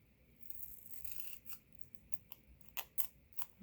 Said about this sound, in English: I'll use my bigger scissors.